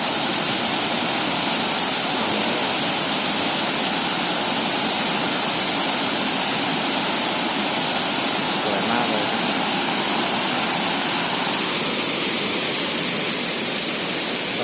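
Waterfall at Huai Mae Khamin in Srinagarind Dam National Park, a steady, loud, broadband rush of falling water that holds unbroken and close throughout, with faint voices mixed into the roar.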